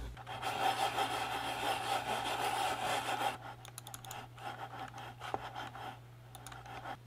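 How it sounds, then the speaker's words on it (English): A computer mouse slides around on a Skypad hard glass mouse pad, giving a continuous scratchy rubbing at first, then quieter irregular scraping strokes with small clicks. "now we'll see just how loud the Skypad is with the mouse"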